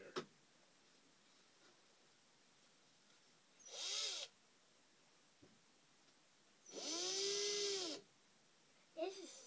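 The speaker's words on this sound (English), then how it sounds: "You want to work the drill?" An electric drill bores the entrance hole in a wooden birdhouse, whirring in two short bursts and a longer one, loud and close, with a child and an adult talking between runs.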